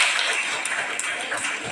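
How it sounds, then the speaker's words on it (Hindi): Nursing college students applauding themselves at a motivational session, a brief, fairly faint wash of scattered clapping from a group in a room. "ताली बजाओ अपने लिए"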